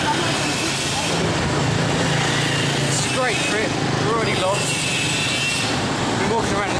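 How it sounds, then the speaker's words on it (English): Busy road traffic in Cambodia, with motorbikes and cars passing in a dense, steady roar and occasional horn-like tones, while people talk underneath. "I'm walking backwards down a busy high road, about to get hit by a bike."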